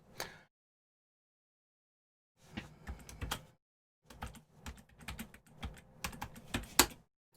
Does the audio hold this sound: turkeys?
no